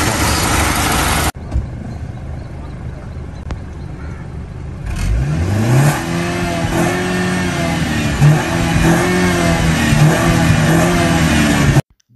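A Mercedes E250 turbocharged engine starts up and revs, rising into a loud, steady mid-pitched drone with slight surges, heard close without voices.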